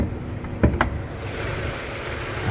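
A 2020 Mazda3 G25 GT with a 2.5 litre SkyActiv four-cylinder idles steadily nearby, a low continuous engine rumble broken by two brief clicks early on, with no talking.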